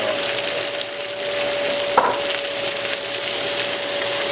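Tomatoes sizzle with other vegetables in a pan for a baked-bean base, a loud, even frying hiss with a steady tone running across it and one brief knock midway, no talking.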